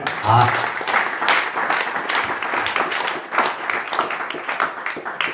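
A church congregation applauding during a sermon, a steady wash of many hands clapping that begins abruptly and carries on evenly throughout, with voices mixed in.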